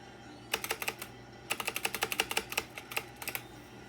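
Keys of a Black Shark gaming keyboard clatter in two quick bursts of sharp, close clicks, with a short pause between them and a few scattered taps trailing off, against a quiet background.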